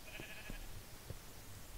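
Sheep bleating in Minecraft, a few short faint bleats spread over the clip against a soft steady game background, with no talking.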